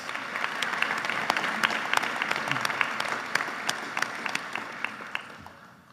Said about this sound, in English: Now give them a round of applause